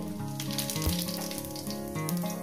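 Whole cumin seeds crackle in hot oil in a pan, a steady close sizzle with a few sharper pops and light spatters, no talk over it.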